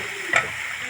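Mocha dalna, a banana flower curry, is stirred in a pan after garam masala goes in, giving a short soft scrape over a steady low sizzle.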